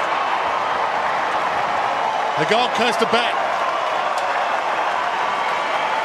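A stadium crowd roars at an AFL football match between Gold Coast and Hawthorn, a dense, sustained wall of cheering with a brief bright whistle-like burst in the middle, while a commentator talks over it.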